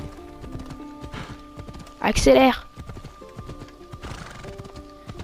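A horse in the Assassin's Creed Odyssey video game gallops with steady clip-clop hoofbeats throughout and lets out one loud, close whinny midway, while someone speaks briefly.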